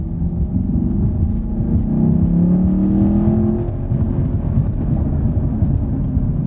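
Chevrolet Camaro SS 1LE or BMW E46 M3 engine revving, a loud, steady, close engine drone that rises slightly in pitch midway, with no other sounds.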